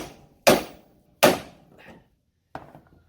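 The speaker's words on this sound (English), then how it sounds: "So what I'm doing is I'm hitting on the bottom of the lower control arm on this side." Hammer blows on the lower control arm of a car during a B series engine swap and transmission removal: three sharp metallic strikes, spaced about a second apart, loud and close, the last one lighter.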